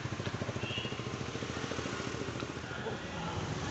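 Motorcycle engine idling and revving steadily in a small market in Rishikesh near the Lakshman Jhula area, a close, continuous mid-pitched rumble with a pulsing rhythm and faint background activity.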